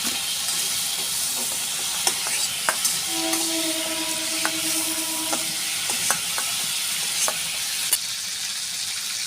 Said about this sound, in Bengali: চিংড়ি মাছটার মধ্যে নুন দিয়ে দেব, হলুদ দিয়ে দেব, দিয়ে ভালো করে নেড়ে ভেজে নেব।